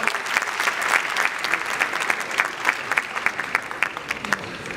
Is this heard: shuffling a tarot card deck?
no